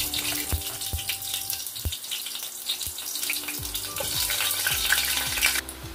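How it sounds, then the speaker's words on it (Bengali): Dried red chillies and fenugreek seeds crackle in hot oil, a close bright sizzle broken by several sharp knocks of a utensil against the pan. "তেলটা গরম হয়ে উঠেছে অ্যান্ড দেন আমি শুকনো লঙ্কা অ্যান্ড মেথি ফোড়ন দিয়েছি।"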